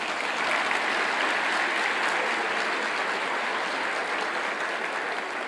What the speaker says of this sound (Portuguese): Quem gostou pode espontaneamente aplaudir